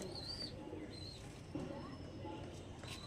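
Andra pigeons in a cage give soft, low coos, faint and close, under quiet background noise with some bird chirps and a voice speaking.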